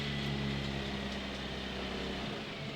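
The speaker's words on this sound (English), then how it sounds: "there's all sorts of things that are going the wrong direction in that engine" Failing engine of a NASCAR Camping World Truck Series race truck at Darlington, a steady, rough, droning mechanical roar with harsh tonal hum, continuous and moderately loud, heard at a distance without speech.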